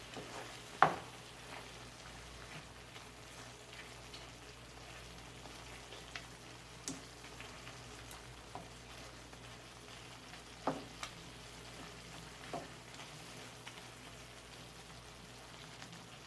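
Spicy red salsa with cilantro simmering in a pan, a faint, steady low sizzle and bubbling with occasional soft pops and clicks, no voices.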